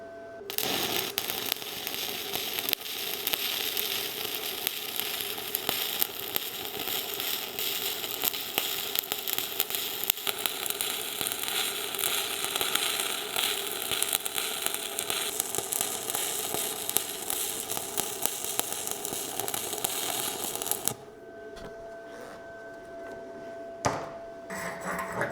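A YESWELDER YWM-160 stick welds a T-joint with a 1/8 inch rod at 128 amps, producing a long, steady crackling sizzle for about twenty seconds before it cuts off into quiet.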